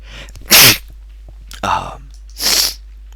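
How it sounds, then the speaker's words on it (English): Three loud, close sneezes come in quick succession, each sharp and breathy, with short quiet gaps between them. "I need to sneeze."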